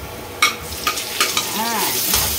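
Carrots drop into a hot frying pan in a few distinct splashes, then a steady loud sizzle carries on with light stirring and no talk.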